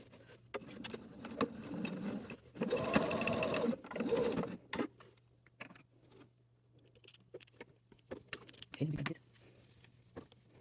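Sewing machine stitching two small fabric pieces for a sanitary pad pouch, running in a steady loud burst of about a second and a half and a brief second run later, with quiet handling noises around it and a faint steady hum.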